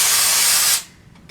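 Loud, steady air hiss bursts from an air compressor line for under a second, then cuts off abruptly and leaves a faint, quiet tail with a couple of small pings.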